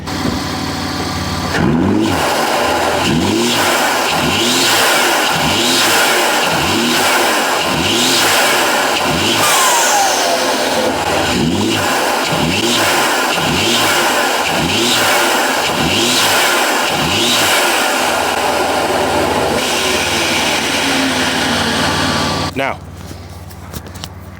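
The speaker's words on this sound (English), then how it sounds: "The intake sounds so good. Listen to this." BMW G87 M2 engine with front mount intakes revved repeatedly in a rhythmic series of rising and falling surges, loud and close, then it settles and stops near the end.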